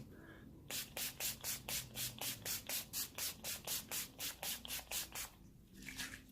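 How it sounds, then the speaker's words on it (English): NYX Mattifying Setting Spray mists onto a face in a rapid, even series of about eighteen short spritzes, close and fairly quiet, with no talking. "I'm going to set with NYX Mattifying Setting Spray"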